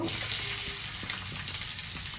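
Steady hissing sizzle of chopped onions frying in oil in a wok, close up, with light stirring scrapes and crackles running through it.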